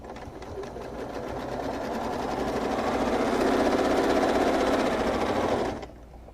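A sewing machine quilting curves along a ruler runs at a fast steady stitching rhythm, rising slightly in speed, then stops near the end, close and clear with no talking.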